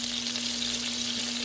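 Meatballs frying in fat keep up a continuous, even crackle and hiss as they are turned with a wooden spoon, close and fairly loud, with no talking.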